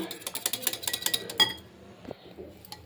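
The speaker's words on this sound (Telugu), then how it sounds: "ఇలా పెరుగు వేసేసుకుని ఇలా విస్కర్తో మనం ఇది ఇలా అయ్యేటట్టు మనం దీన్ని కలుపుకోవాలి" A wire whisk beats yogurt in a bowl for a wheat-flour and jaggery cake, giving a quick run of bright metallic clinks for about a second and a half before fading to a quieter scrape.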